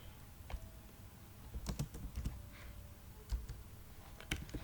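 Someone types CSS on a computer keyboard, with quiet, uneven bursts of key clicks in short clusters and pauses, close and soft, with no voices.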